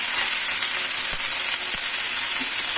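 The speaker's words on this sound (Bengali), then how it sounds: "এইভাবে এঁচোর আর আলুটাকে দু মিনিট নাড়িয়ে নিলে এঁচোরটাও ভাজা ভাজা হয়ে যাবে" Unripe jackfruit and potato pieces fry in a pan with turmeric and salt, giving a steady, close, loud sizzle throughout, broken only by a couple of faint stirring clicks.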